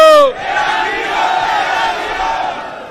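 A large political rally crowd in Patiala, Punjab, roars and chants together, loud and sustained, right after a single shouted voice opens.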